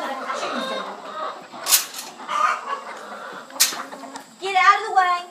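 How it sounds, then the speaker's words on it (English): Several chickens cluck and squawk nearby in a homestead barn in irregular bursts, with a louder flurry of clucking near the end. "And you can tell that I've got chickens in there."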